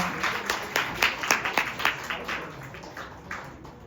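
An audience at a seminar claps to welcome a dentist-turned-full-time-investor to the stage, a moderate round of applause that swells and then gradually fades, with no talk over it.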